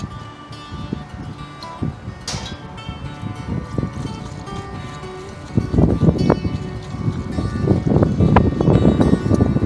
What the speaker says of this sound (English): Very windy spring day.